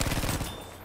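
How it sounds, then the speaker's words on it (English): Rapid submachine gun bursts from Battlefield V, a dense rattling string of close, loud shots that tapers off after about half a second. "pretty insane SMG we got here"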